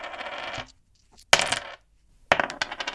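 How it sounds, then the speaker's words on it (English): Three gold coins are emptied onto a table, clinking in three separate bright bursts with short silences between them, close and clear with no voices. "He emptied 3 gold coins onto the table."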